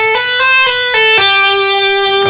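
A short electric guitar lick with clear pull-offs, a few quick bright notes falling into a sustained held note, played alone and up close with no talking.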